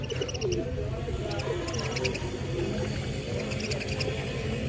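Caged sparrows at a bird seller's stall chirp in quick, high-pitched bursts that come and go, scattered over a constant low background rumble.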